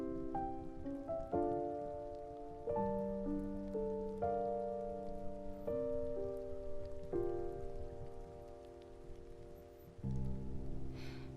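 Rain pattering steadily on a surface beneath a melodic song intro with sustained harmonic notes, lasting throughout with no talking.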